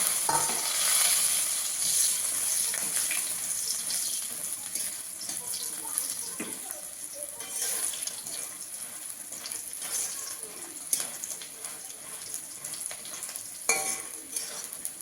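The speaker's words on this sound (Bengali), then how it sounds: "বড়ি ভাঙাগুলো একটু ভেজে নেবো" Steady sizzling of broken lentil dumplings (bori) frying in oil, with occasional stirring clinks, continuing without pause.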